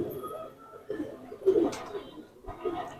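Tonk pigeons of an old breed coo in soft, repeated rounds, fairly close and moderately quiet, with a few louder swells of cooing and faint background noise.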